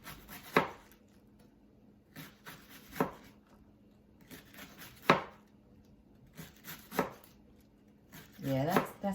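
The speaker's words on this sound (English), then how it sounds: "I'm gonna cut it thin into thin, long slices, really thin" A knife slices a small leftover piece of vegetable into thin, long strips on a board, with several distinct, spaced chopping strokes close by, plus a faint shuffling rub near the end.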